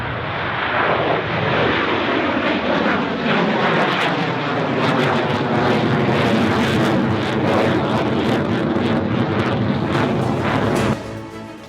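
An Indian Sukhoi fighter jet in Japan roars continuously, a loud, dense engine rumble with a broad whooshing texture that holds steady for about eleven seconds before dropping off suddenly at the end.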